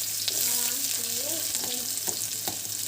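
Onion dropped into a cumin tempering, frying with a continuous soft sizzle and occasional stirring scrapes; a voice-like tonal sound and a low steady hum sit faintly underneath.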